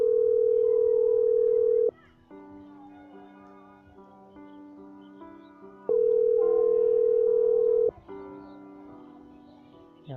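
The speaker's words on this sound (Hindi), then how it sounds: "उसके बाद मैं नंबर डायल करता हूँ" Telephone dial tone and call-progress tones on a call being placed to a number in India, a loud steady tone for about two seconds, then a stretch of quieter multi-tone patterns, then the steady tone again, with no talking.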